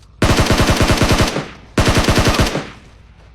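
An M249 machine gun fires in a video game: two loud, close bursts of rapid automatic shots, the first longer and the second shorter, separated by a brief pause.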